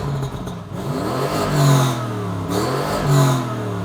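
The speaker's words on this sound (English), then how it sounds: "you can actually hear it like rev up" A cold Lamborghini Urus engine revving up aggressively, two rising surges climbing in pitch from a lower drone, loud and close with no talk.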